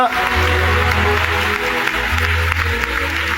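Congregation members clap in bursts during a Telugu church sermon, loud rhythmic applause mixed with the preacher's amplified voice and an organ-like hum.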